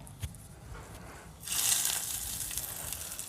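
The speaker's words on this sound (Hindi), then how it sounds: "तड़का हमारा तैयार है और अब हम इसको चटनी के ऊपर डाल देंगे" Hot mustard seed and curry leaf tempering is poured over coconut chutney. After a quiet start, a soft hissing sizzle rises suddenly and carries on steadily to the end.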